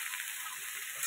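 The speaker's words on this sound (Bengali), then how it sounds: "সবজিগুলো আগে ভেজে নেব" Vegetables including Malabar spinach stems, pumpkin, eggplant and potato fry in oil in a pan with turmeric, a soft steady sizzle, brief and quiet with no talking.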